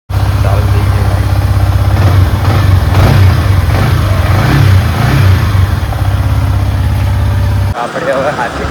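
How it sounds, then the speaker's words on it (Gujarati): A motorcycle engine fires up and keeps running close by, a loud steady throbbing idle with slight revs throughout, cutting out sharply near the end. "ચાલુ થઈ ગઈ બાઈક."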